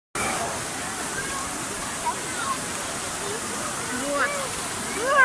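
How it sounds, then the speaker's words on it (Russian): A steady, rushing roar of falling water from a waterfall at the Tropical Islands indoor resort in Germany, loud and close, with faint chirps and a few scattered sounds on top. "Там вообще водопад, классно."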